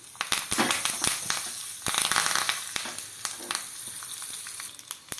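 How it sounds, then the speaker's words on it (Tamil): Red chillies, asafoetida and curry leaves fry in hot oil as a tempering for Andhra-style moong dal rasam, giving a close, steady crackling sizzle dotted with sharp pops throughout, with no talking. "சிவப்பு மிளகா போட்டு கொஞ்சம் நல்லா பெருங்காயம் போட்டு பொரித்து போட்டுடலாம்"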